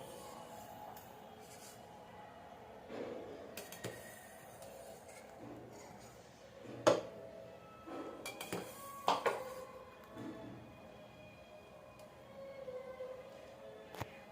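Steamed ragi kozhukattai moved onto a plate in a home kitchen, faint scattered clinks and scrapes of utensils and dishware with a couple of sharper knocks, no voices.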